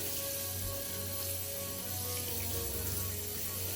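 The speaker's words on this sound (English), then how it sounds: "Filled up with my shower head, like I always do." A continuous hiss of water flowing from a shower head into a portable washing machine, steady and even throughout with a faint background hum.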